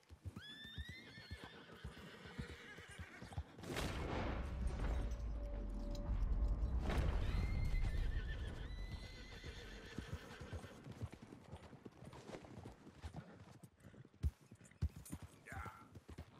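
In the video game Red Dead Redemption 2, a horse neighs with rising whinnies while hooves clip-clop in a steady rhythm, joined by a low rumbling boom midway; no talking.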